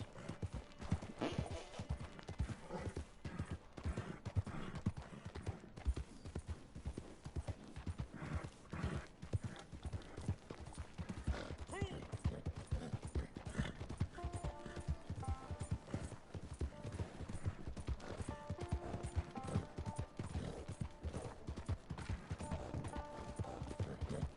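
Horse hooves pound in Red Dead Redemption 2, a quick, steady run of hoofbeats that carries on throughout at a fairly low level, with occasional faint whinnies and mechanical clicks mixed in.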